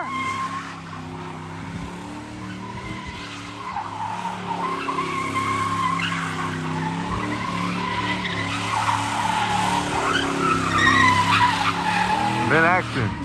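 A Ford Mustang spins donuts in a neighborhood street, tires skidding and squealing over a steady engine roar that rises toward the end, with people talking nearby.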